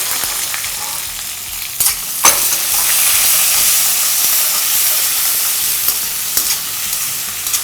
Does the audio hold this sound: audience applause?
no